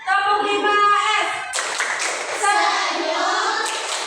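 Schoolchildren in a classroom chant the Tepuk 5S clapping routine, loud sing-song voices in unison punctuated by bursts of group hand claps.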